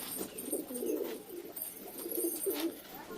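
A pigeon coos softly and repeatedly nearby, low rolling calls in a steady rhythm with no other sounds.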